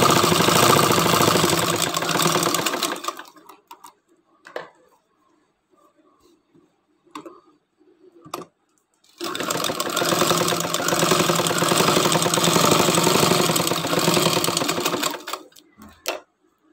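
A sewing machine stitches a homemade fabric cup coaster in two long, loud runs of fast, steady whirring, separated by a quiet pause with a few small clicks and handling sounds.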